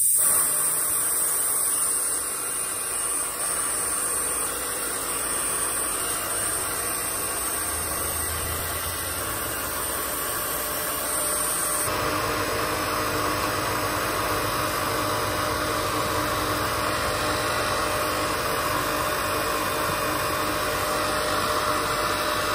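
A vacuum brake bleed and flush tool runs on a Honda Element, giving a steady, loud hissing whoosh that holds constant for the whole span and grows slightly fuller and rougher partway through.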